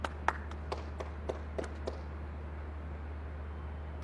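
Scattered applause at a cricket practice match: a handful of separate, sharp claps in the first two seconds over a steady low hum, then fading into quiet background.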